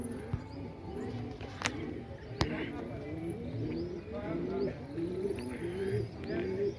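Pet pigeons coo in soft, repeated low warbling calls close by at a pigeon house, with a couple of sharp clicks and faint chirps mixed in.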